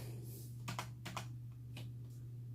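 Several soft, quick keystrokes on a computer keyboard, typed in a short burst and then two lighter taps, faint and close over a steady electrical hum.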